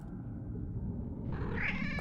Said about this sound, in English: Good job, kitty cat.